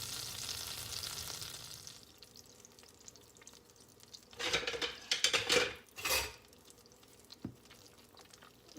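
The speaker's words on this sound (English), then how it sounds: "melt your butter and your brown sugar together" Butter and brown sugar melt together in a pan with a quiet sizzle, broken midway by a cluster of utensil clinks and scraping stirs, then settling back to a low bubbling.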